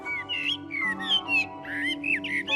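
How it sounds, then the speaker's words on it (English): A blackbird sings close by from an old gnarled apple tree, a series of clear, fluting whistled phrases separated by short pauses, loud and alone. "As soon as I started to listen to this blackbird in close-up"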